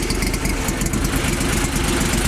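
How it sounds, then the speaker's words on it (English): A Mudd-Ox amphibious vehicle engine runs with its CVT clutch spinning and driving the belt to the transmission, giving a loud, steady, close mechanical drone with a rapid low throb and no breaks. "You'll notice that this engine clutch is spinning, which drives that belt to the transmission."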